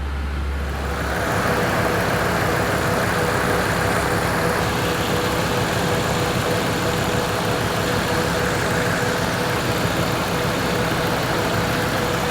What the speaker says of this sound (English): Compressor and everything's running, it just needs more refrigerant.